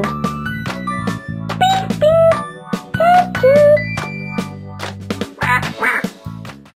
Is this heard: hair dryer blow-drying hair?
no